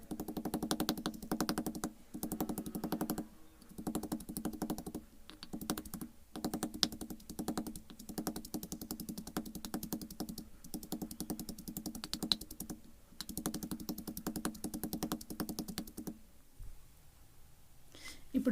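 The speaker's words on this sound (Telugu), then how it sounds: "మామిడికాయ ముక్కలను కానీ మంచిగా దంచుకుంటాము" Raw mango pieces are pounded in a stone mortar with a rapid, fairly regular series of dull thuds and knocks, close and moderately loud, with brief pauses between bursts and a quieter stretch near the end.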